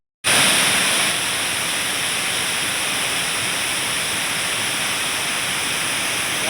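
Waterfall at NTR Adventure Park in Seethampeta, a steady, dense roar of falling water that starts abruptly and holds loud and constant throughout, with no voices.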